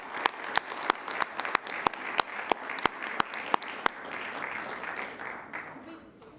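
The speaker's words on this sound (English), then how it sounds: "Let's give them all one big round of applause." Applause from the audience at a city council meeting, steady clapping with a few loud, sharp individual claps punctuating it every third of a second or so, gradually thinning out toward the end.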